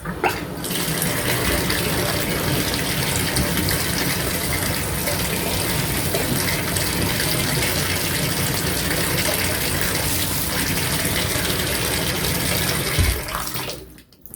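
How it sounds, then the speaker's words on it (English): Water runs steadily from a Moen bathtub faucet and gushes into a newly unclogged tub drain, a loud continuous rush lasting about thirteen seconds before it is cut off. "At this point, I'm going to run a bit of water."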